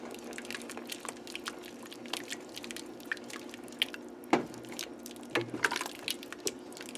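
Thick stew poured into a butter-and-flour roux in a pot, with soft, close sloshing and scattered wet drips and squishes, a few louder plops near the middle and end, and no talking.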